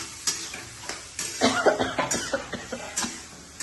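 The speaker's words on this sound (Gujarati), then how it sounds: "ઉધરસ પણ થઈ ગઈ મને" A person in a home kitchen coughs repeatedly, a run of short harsh coughs in quick succession heard up close.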